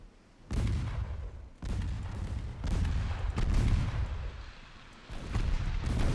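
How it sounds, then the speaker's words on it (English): Torpedo hits detonating against a light cruiser in the naval battle game Ultimate Admiral Dreadnoughts, several heavy booming blasts with deep rumbling tails, one after another and loud throughout. "2 torpedo hits. Torpedo detonation, good."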